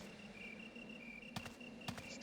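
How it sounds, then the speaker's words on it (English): Crickets chirping in the ambient soundscape of Resident Evil 3, a faint, steady insect trill in a quiet scene, broken by two brief sharper taps near the end. "crickets chirping in the background."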